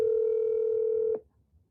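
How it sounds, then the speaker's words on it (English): A telephone call ringing out, heard as one steady electronic tone that holds for just over a second and then cuts off into near silence, with no one speaking. "Just pick up the phone."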